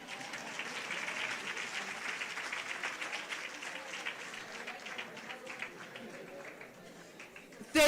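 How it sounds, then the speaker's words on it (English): Audience applause at an official unveiling of a women's fund, a moderate steady patter of clapping that gradually thins out, with a sharp loud burst at the very end. "Let us give Honorable MEC a round of applause, a big round of applause."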